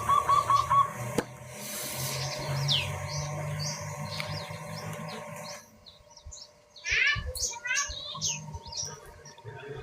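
Caged songbirds set out in front of a house chirp and twitter in quick, scattered bursts, fairly faint against a low background hum, with a brief quieter stretch before the calls resume.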